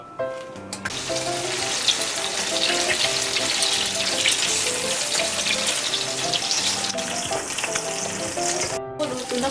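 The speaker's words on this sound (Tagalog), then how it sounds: "Ipuprito natin siya sa mantika." Chicken longganisa sausage fries in oil with a steady, dense sizzle and crackle that is loud and close throughout, with a faint tonal hum underneath.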